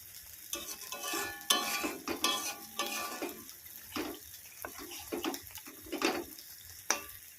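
Chicken frying in its released oil with dry chili powder added, stirred with a spatula: repeated scraping strokes and clatter over a soft sizzle, close and uneven in rhythm.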